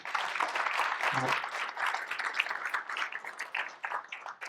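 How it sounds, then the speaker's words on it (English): An audience applauds veterans at a school facilities conference, uneven clapping that swells and thins with a brief low thump near the start, speech-like sounds mixed in. "Let's give them a round of applause one more time."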